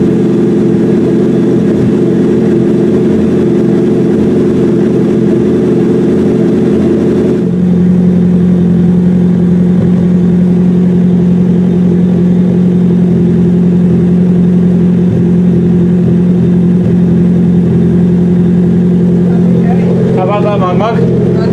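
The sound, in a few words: 1994 Nissan car engine running after exhaust modification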